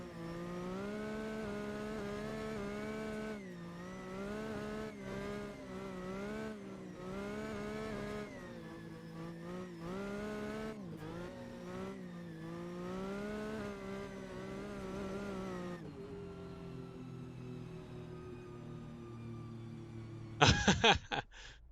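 Video game car from the VDC car pack revs hard and high toward 9,000 RPM, its engine note rising and falling in repeated bursts, then settling into a lower steady drone before a short loud clatter at the end.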